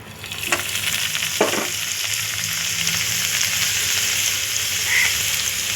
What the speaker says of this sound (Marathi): हे सगळे मसाले आता याच्यात भाजून घेणार आहोत आता टाकणार आहोत आपण खोबऱ्याचं वाटण याच्यात